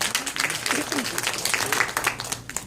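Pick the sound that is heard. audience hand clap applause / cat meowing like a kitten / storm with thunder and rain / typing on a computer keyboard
audience hand clap applause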